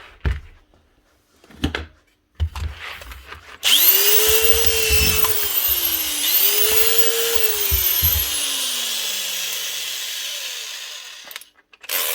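An old Festool, Mafell or Virutex power tool under repair runs its motor for about eight seconds, loud and close, with a distinct spin-up and a second surge midway before winding down, preceded by some handling knocks.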